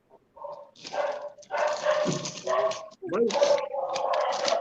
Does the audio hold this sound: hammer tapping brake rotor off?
no